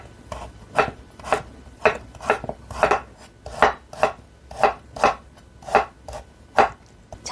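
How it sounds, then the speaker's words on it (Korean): Washed, peeled burdock root sliced thinly on the diagonal with a knife on a board, about a dozen crisp, evenly spaced chopping strokes close up, with no talking. "깨끗이 씻은 우엉을 잘라줍니다"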